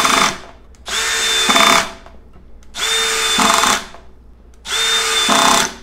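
A cordless drill driving a screw runs in three loud whirring bursts, each ending as the clutch slips and ratchets before the trigger is released, with short quiet gaps between.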